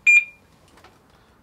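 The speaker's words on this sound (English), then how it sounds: "there's the bike gone into alarm mode, but we're still charging here." A motorcycle security alarm gives one short, clear electronic beep as the RT bike arms itself while connected to an Optimate 4 CAN bus battery charger. Near-silence follows, with only a faint rustle.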